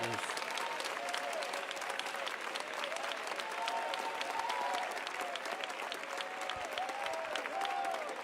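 Loud, steady applause from a church congregation fills the space, dense continuous clapping with some voices faintly mixed in underneath.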